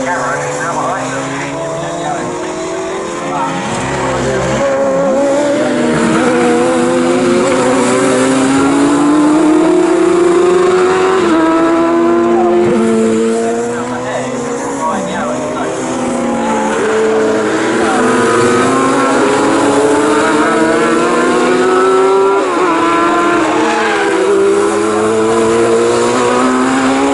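Sports 1000 race cars scream past at Snetterton circuit, engines revving and rising and falling in pitch as several cars run side by side, loud and close, with a commentator talking throughout.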